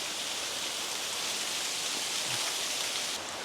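Heavy rain falls during a waterfall trek in Bali, making a dense, steady broadband hiss that holds at an even loudness throughout, with no voices and no distinct drops standing out.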